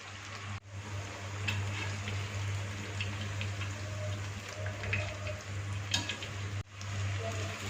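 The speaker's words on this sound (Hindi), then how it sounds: "दूसरी दफ़ा पकौड़े फ्राई करते हुए हीट को बिल्कुल स्लो कर देंगे।" Chinese soup pakoras frying in oil on low heat, a steady soft sizzle and crackle with occasional brighter pops, close and continuous with a low hum beneath.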